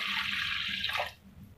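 Water from a tap runs into an empty kadhai that is not yet on the gas, a steady hissing splash close by that stops abruptly, with no talk.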